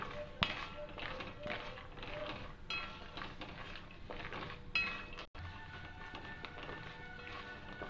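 Almonds roasting in a pan on a low flame, stirred continuously with a metal spoon, giving soft repeated scraping and clinking against the pan at moderate distance.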